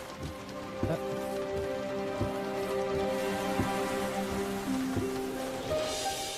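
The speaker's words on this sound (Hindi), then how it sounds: "ऐसी बारिश हो रही थी उस वक्त भी" Steady rain falls continuously in a dramatic film scene, an even hiss of drops with soft periodic thuds and a sustained tonal background beneath it, no one speaking.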